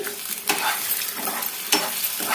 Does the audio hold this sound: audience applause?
no